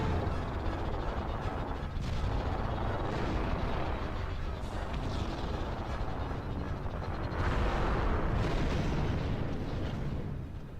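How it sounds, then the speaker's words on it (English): Gunfire and rumbling explosions from the Star Wars Bounty Hunter video game, with bursts of blasts over a dense, continuous battle din at moderate level. "just shoot it a couple times."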